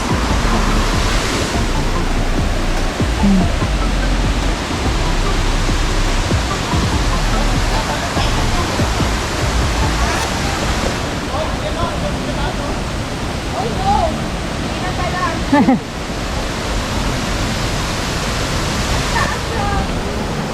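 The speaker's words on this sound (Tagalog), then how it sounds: "masyadong mataas yung falls" Bolinao Falls in Pangasinan pours out a steady, dense roar of falling water that fills the whole stretch without pause, close and constant.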